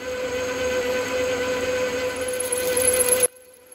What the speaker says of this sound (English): we're going to drill all the way through with number 4